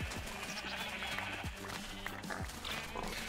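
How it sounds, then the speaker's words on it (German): Sheep in the Minecraft Tekkit modpack bleat again and again, several short game-sound calls overlapping at a steady clip against a continuous hiss of background noise. "Und schon wieder kämpfe ich mit den Schafen."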